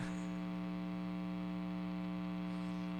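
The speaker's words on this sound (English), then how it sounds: "Oh, that's really loud, fan." A loud electric fan runs in an overheating room, giving a steady, unbroken droning hum that stays even and close for the whole stretch.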